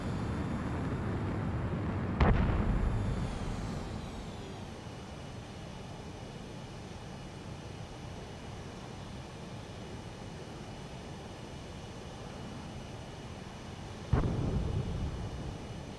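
Two heavy booms from missile explosions in the Ace Combat 7 jet combat game burst out over a constant roaring engine drone, about twelve seconds apart, each sharp at the start and fading into the rumble.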